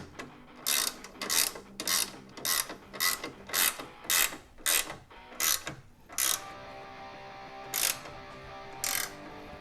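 A ratchet wrench tightens the front strut bar on a Toyota RAV4, a rapid series of close, crisp clicking bursts in steady rhythm, then a few slower, spaced pulls toward the end.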